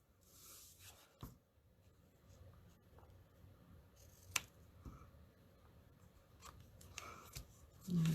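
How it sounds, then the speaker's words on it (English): Scissors snip through ribbon ends while finishing a handmade twisted easel fun fold card, giving a few crisp, close cuts against quiet tabletop handling and rustling. "And then we're just going to cut the ends off."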